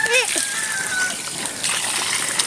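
Water splashes and gushes as a goat is bathed by pouring water over it, a brief splatter followed by a steady wash of water, with a faint chirpy voice at the start.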